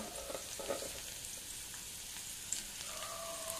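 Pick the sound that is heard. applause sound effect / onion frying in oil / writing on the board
onion frying in oil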